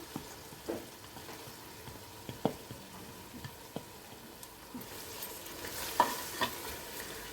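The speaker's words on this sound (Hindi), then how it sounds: "अब हम इसमें हाफ कप दही शामिल करेंगे।" Half a cup of yogurt goes into butter chicken karahi gravy and gets stirred in a pan, with scattered spoon taps and scraping over a soft sizzle that swells toward the end; no one speaks.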